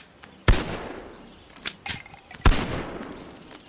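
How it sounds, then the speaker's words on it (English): Loud shotgun mod blasts in the VR game Bonelab, two sharp booming shots a couple of seconds apart with ringing decay, plus smaller mechanical clacks between them. "It's a shotgun, basically."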